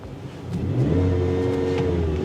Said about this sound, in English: Oh, it has a soft limiter.